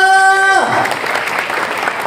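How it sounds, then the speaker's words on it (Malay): A sustained tone cuts off and a crowd bursts into loud, steady clapping that continues without pause. "tepuk tangan doanya semua"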